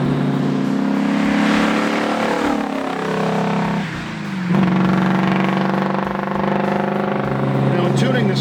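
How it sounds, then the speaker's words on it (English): A 1969 Camaro SS396 with MagnaFlow exhaust revving hard, a loud, close V8 roar rising in pitch, dipping briefly, then climbing again through the gears. "when you're in it, and your foot's to the floor, it sounds like a race car"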